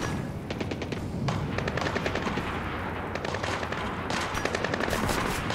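Suppressed gunfire in the stealth video game Splinter Cell Blacklist: rapid bursts of sharp shots rattle in close succession over a dense, continuous game soundscape, loud throughout with no speech.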